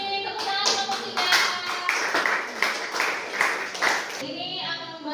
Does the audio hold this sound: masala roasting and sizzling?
no